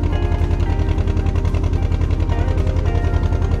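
A boat engine chugs steadily on the Krishna river near Vijayawada, a loud continuous low rhythmic throb with a bike loaded aboard, running unbroken throughout with no talk.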